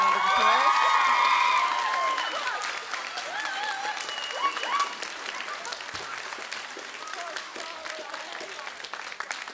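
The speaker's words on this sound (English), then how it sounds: "So give them a round of applause." Audience at a 2013 variety show applauds and cheers loudly at first, the clapping thinning into scattered claps and crowd murmur with voices talking over it.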